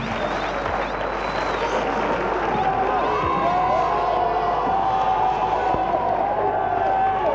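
A studio audience on a 1997 French television game show cheers and applauds continuously, a steady, fairly loud crowd roar with scattered voices rising above it.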